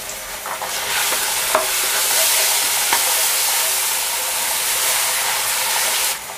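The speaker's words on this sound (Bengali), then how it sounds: "রসুন এবং পেঁয়াজ বাটাটাকে হালকা করে একটু ভেজে নিলাম।" Garlic and onion paste fries with ginger paste in a pan for a fish-head muri ghonto, a loud, continuous sizzle close by, with a few sharp stirring scrapes and no voices.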